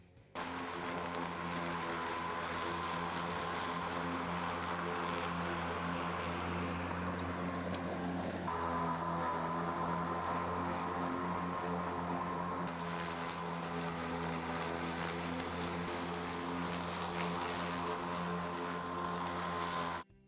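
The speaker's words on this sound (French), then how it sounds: "Voyons comment se comporte la tondeuse Green." A Green 82V battery lawn mower cutting thick damp grass, its electric motor holding a steady, even whine throughout with a slight dip in pitch as it bites into the heavy growth, loud and constant without talk.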